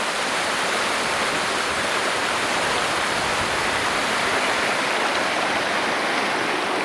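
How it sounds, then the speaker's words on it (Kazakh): River water surges hard through a dam at Tasaryk in Zhambyl region's Sarysu district, a loud, unbroken roaring rush that stays steady and dense throughout, with no voices. "Мына судың өзінің несі міне қатты ағып жатыр"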